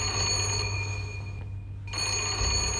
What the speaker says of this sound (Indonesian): telepon rumah berdering memberi kabar tentang keberadaan Sinta